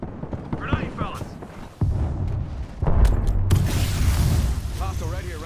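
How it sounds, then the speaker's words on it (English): A grenade blasts in the Apex Legends shooter game, a sharp broadband boom followed by a second heavy burst, with rumbling battle noise and a voice talking over the action. "Grenade, fellas."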